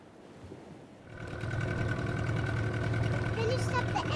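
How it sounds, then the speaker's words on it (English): A sailboat's engine idles on the water, a steady low mechanical hum that grows louder after a quieter first second and holds constant, with people talking over it. "Can you stop the engine?"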